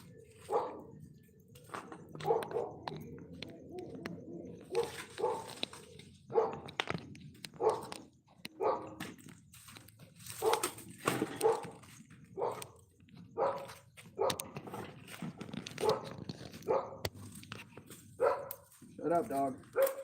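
A dog barks repeatedly in a room, sharp close yaps and bow-wows coming in irregular bursts over about twenty seconds, mixed with a person talking.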